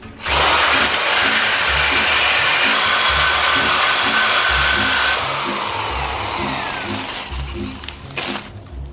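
A power tool whines loudly and steadily for several seconds as it cuts through a bicycle frame for a cargo sidecar build, then winds down, followed by a few brief clanks close by.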